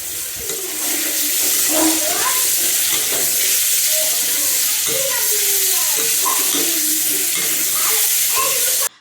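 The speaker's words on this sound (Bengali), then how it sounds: "তো দেখো মাছগুলো খুব সুন্দর করে একটু কষিয়ে নিয়েছি মানে নিচ্ছি" Small fish sautéing in a pan with turmeric, chili and salt, giving a steady sizzle with watery crackle that runs nearly unbroken, and a voice talks over it.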